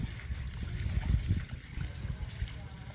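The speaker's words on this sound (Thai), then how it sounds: "เทน้ำครับ" Water poured from a noodle cup into soil pots for planting lotus seeds, a soft close trickle and splash, faint and brief.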